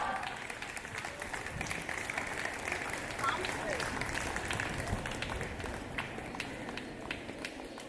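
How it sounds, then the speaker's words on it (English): A college Independence Day celebration crowd applauds steadily for several seconds, a dense, even clapping that holds at moderate loudness throughout. "Let's all give them a big round of applause."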